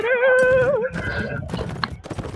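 A horse in the Mount&Blade video game gives a loud, wavering whinny, followed by a short run of clattering hoofbeats and scuffling noises, all close and brief.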